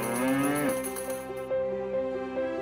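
A cow moos in one long, loud, drawn-out call that falls in pitch and then trails off into a sustained lowing, close by with no other sounds.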